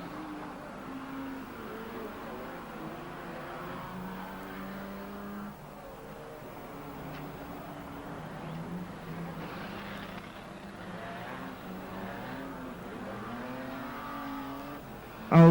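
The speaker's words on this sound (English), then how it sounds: "'96 Wilshire ploughs in." Banger racing cars rev and drone around a track at a 1994 banger world cup meeting in Warneton, Belgium, engines rising and falling at a moderate distance with no clear crash impact.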